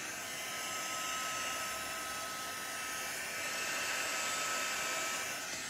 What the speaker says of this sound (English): I'm going to use the heat gun to move it around.